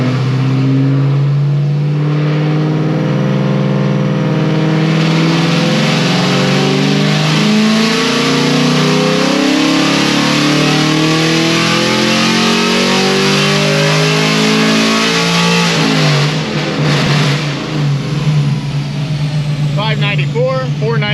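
On a chassis dyno, a very loud car with upgraded heads and cam and ethanol-blended fuel screams through a long, sustained rev climb before letting off abruptly, with a voice briefly heard near the close.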